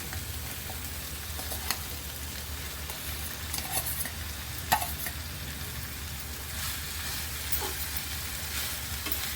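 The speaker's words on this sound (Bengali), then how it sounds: "এবার এর মধ্যে সেদ্ধ করে রাখা মোচাটা দিয়ে আবার খুব ভালো করে কষাতে হবে।" Boiled banana blossom being sautéed with spices in a pan for a Bengali curry, a steady soft sizzle and frying hiss with occasional stirring scrapes and clinks, continuous and close.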